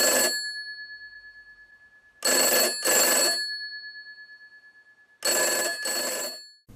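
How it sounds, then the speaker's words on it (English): An old telephone bell rings after phone phreaking tones, in two loud double bursts separated by long decaying pauses, each ring bright and metallic, with no voices. "the phone should be ringing about now"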